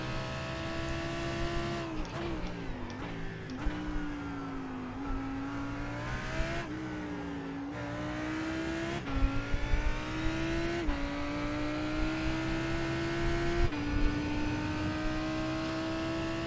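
A V10 race car at Silverstone in a racing video game screams steadily at high revs, shifting up through gears with brief dips in pitch, loud and continuous with no talk.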